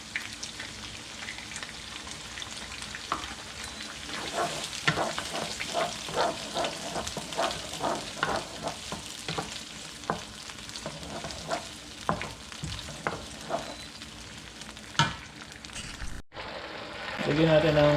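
Tomato sauce sizzles and crackles steadily in a hot frying pan while being stirred, with occasional louder spatters close by.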